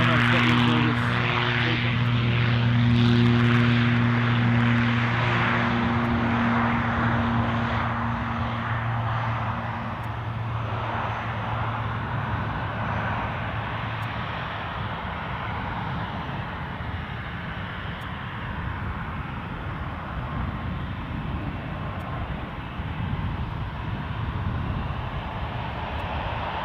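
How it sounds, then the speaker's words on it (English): A Ryanair airliner bound for Rome moves steadily at Edinburgh Airport, its broad engine roar loud and sustained throughout, with a low tonal drone early on and people talking over it. "Here we have a fairly steady proceeding Ryanair to Rome."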